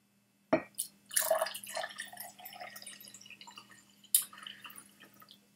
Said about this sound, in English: Gotta pour some more water.